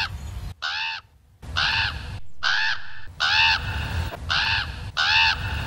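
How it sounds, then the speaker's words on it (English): A crow caws repeatedly near a power plant in The Simpsons, six harsh, evenly spaced calls, loud and close with brief gaps of near silence between them. "In nearly every establishing shot of the power plant, a crow can be heard."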